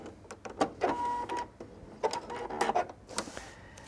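A sewing machine back stitches the tabs of a drawstring backpack in short, uneven whirring bursts with clicks and brief pauses, up close.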